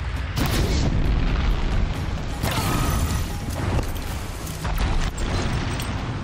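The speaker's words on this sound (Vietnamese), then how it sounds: "Đây là cái cây súng phun lửa." Flamethrower fire in the video game Horizon Zero Dawn, a loud roaring whoosh with repeated bursts and heavy impact booms, mechanical clanks mixed in, up close.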